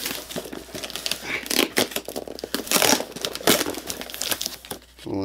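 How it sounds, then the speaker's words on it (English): A taped parcel is torn open by hand in loud, close bursts of crinkling and ripping packaging, with irregular rustles, snaps and brief pauses. "let's open this parcel"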